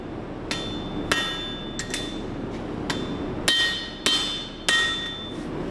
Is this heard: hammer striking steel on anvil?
yes